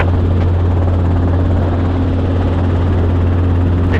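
A helicopter in flight on short final to runway 18 at St. Charles airfield, its engine and rotor making a loud, steady, continuous drone with a strong low hum throughout, no voices.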